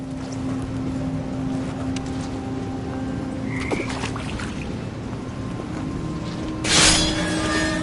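Toads croak in a steady low chorus in a dark, echoing space in the video game What Remains of Edith Finch, with a brief splashy swell near the end.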